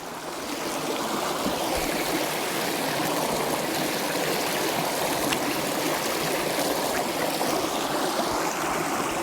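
Flowing stream water beside the bank, a steady, continuous rushing and trickling that holds at an even level throughout with no voices.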